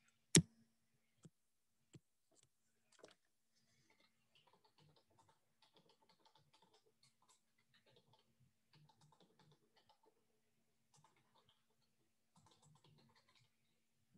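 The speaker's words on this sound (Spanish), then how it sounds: "Voy a usar el teclado entonces." Someone types on a computer keyboard: quiet, scattered key clicks with one sharper tap near the start, sparse and faint in a still room, with no voices.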